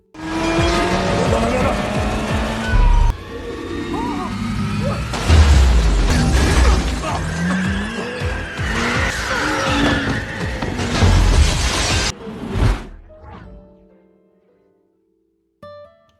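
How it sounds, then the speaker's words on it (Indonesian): A car with failed brakes in Furious 7 skids and crashes between buildings: loud, dense engine roar and tire squeal with booming impacts for about twelve seconds, then the noise cuts off abruptly and a few fading crashes follow before near silence. "Ternyata mobil itu remnya blong dan ia terbang lagi ke gedung yang ketiga."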